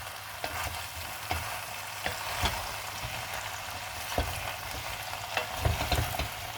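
Potatoes and turnips sizzling gently in a pan over low heat, a soft steady crackle with scattered pops and occasional stirring scrapes, faint and close, with no talking.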